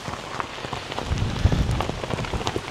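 Rain falls on a house on a private island, a steady close patter of drops on hard surfaces with heavier splashes and no voices.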